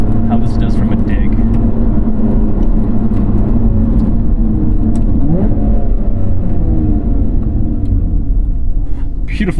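A mid-engine sports car, either a Porsche 718 Cayman GTS or a Lotus Evora GT, accelerates hard from a standstill with a loud, steady exhaust rumble and rising engine revs. A voice talks over the engine.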